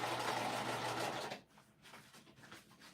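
Domestic sewing machine stitching vinyl, a quiet rapid mechanical whir for about a second and a half, then it stops, leaving faint clicks and handling noises.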